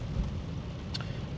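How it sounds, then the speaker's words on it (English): Heavy rain pours steadily outside, a dense, even wash of noise heard from indoors, with no voices over it. "it is raining and it's been pouring for the last hour"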